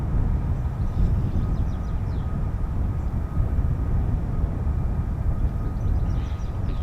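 An F-35B stealth fighter jet roars as a broad, continuous wash of jet noise that holds steady and loud throughout, with no voices over it.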